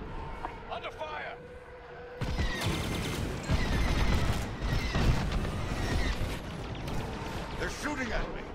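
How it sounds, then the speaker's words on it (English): Blaster fire during a space dogfight in Star Wars: Squadrons at Mon Cala, loud rapid bursts and crashing impacts over a droning engine, with radio voices calling out in between. "They're shooting at me!"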